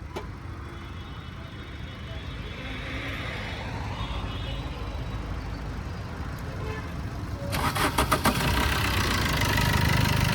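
A 2017 Maruti Suzuki Brezza ZDi Plus diesel sits in a quiet, noisy background before its engine catches partway through, then settles into a loud, rattling, clattery diesel idle close by.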